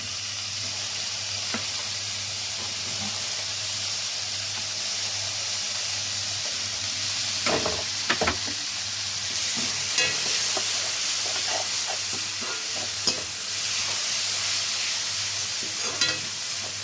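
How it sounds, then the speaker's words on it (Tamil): Onion and tomato sauté in a pan for a macaroni vegetable biryani, giving a steady close sizzle and hiss with occasional scraping stirs and clinks, and no voices. "வெங்காயம் நல்லா வதங்கட்டும். இப்போ நம்ம டொமேட்டோ சேர்த்துக்கலாம்."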